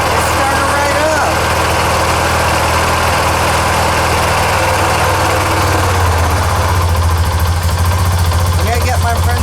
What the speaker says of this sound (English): It started right up.